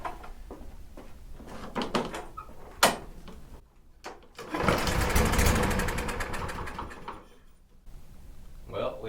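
A Troy-Bilt/Craftsman lawn mower engine with carburetor problems is cranked but fails to start: a rough churning pull that sputters for a few seconds and dies, amid clunks and shuffling handling noises nearby, with no talk.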